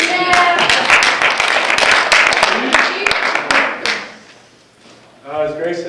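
Meeting attendees gathered for a 5K event clap together in a burst of sharp, irregular hand claps that fades out, followed by a voice starting to speak.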